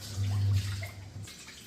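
Water pouring briefly into a pan for nannari sarbath, a short low splash and rush that fades within moments.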